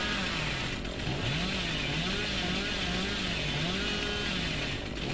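A chainsaw runs continuously in the video game Dead by Daylight, a loud droning buzz whose pitch wavers up and down as it saws, steady for the whole stretch.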